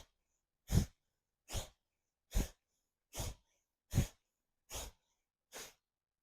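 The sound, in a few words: forceful breathing out during a twisting exercise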